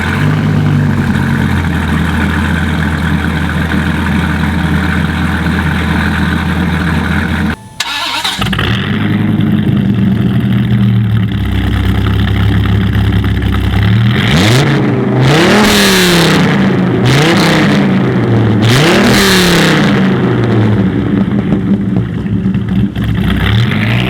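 A Dodge Viper engine with no catalytic converter idles with a deep, rough burble, briefly cuts out, then revs several times in rising and falling sweeps, loud and close with no voices.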